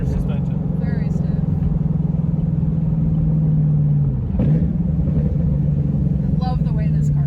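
A manual Camaro's engine and exhaust drone steadily from inside the car while driving, a deep rumble with a brief dip and shift as the revs change, voices talking faintly over it.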